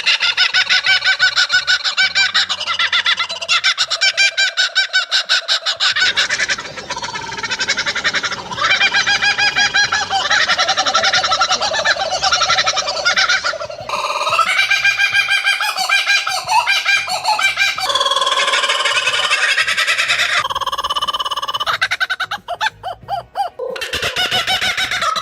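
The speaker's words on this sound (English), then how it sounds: "the laughing kookaburra's most distinctive feature lies not in its appearance, but in its vocalization, which can be described as sounding like laughter" A laughing kookaburra calls in a long, loud, raucous chorus of rapid cackling hoots that rise and fall in pitch, continuing with brief gaps throughout.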